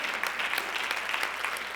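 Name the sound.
audience applause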